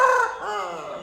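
Hens brought to a farmyard cluck and call in a short, close, fairly loud burst, a single drawn-out fowl call that dips in pitch.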